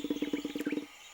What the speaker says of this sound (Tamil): அது அந்த குள்ளநரியோட சத்தம் தான் நினைக்கிறேன்.